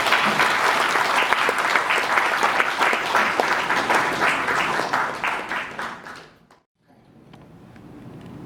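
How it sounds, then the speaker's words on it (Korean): Warm applause from an audience at a book launch, welcoming a soprano to the stage. It is dense and sustained for about six seconds, then stops abruptly, leaving near silence before faint room sound returns. "뜨거운 박수로 맞아주십시오"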